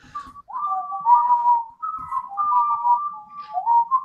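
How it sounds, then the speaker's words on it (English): A clear whistled melody, close and alone, with a few sustained phrases and short gliding notes over about four seconds. "I know what that means. That whistle."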